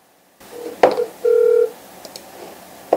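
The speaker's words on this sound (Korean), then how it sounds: "전화 한번 해보겠습니다." Telephone dialing tones sound as a number is called: short electronic beeps and one longer steady tone, with a few clicks, close and fairly loud over a quiet background.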